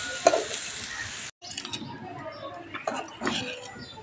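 A spoon scrapes and clinks against a pan while tomato rice is stirred, a brief sizzle giving way to intermittent scraping and clinking up close.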